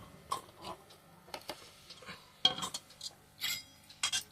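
Mung dal is served into a bowl in a home kitchen: a utensil gives a series of light, irregular clinks and scrapes against the dishes, close and fairly quiet, with no talking.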